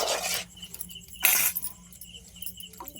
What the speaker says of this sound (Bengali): এবার এই বাটিটা ধুয়ে আমি একটু জল দিয়ে দেব